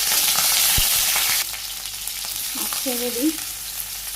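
Leafy greens fry in hot oil with cumin and green chilies, a loud, steady sizzle that drops to a softer crackle partway through, with a brief spoken phrase and stirring over it.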